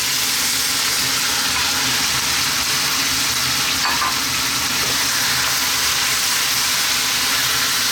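Onion and eggplant fry in hot oil in a pan over high heat, a steady broadband sizzle holding level the whole time with no talk over it.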